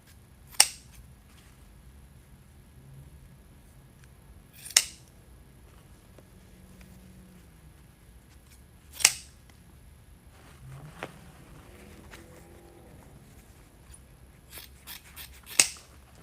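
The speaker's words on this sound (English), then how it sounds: "Get all these trimmed up." Scissors snip through decorations on a premade gnome wreath, giving five or six crisp, isolated cuts spread several seconds apart over a quiet room, close to the listener, with a faint rustle between some of the cuts.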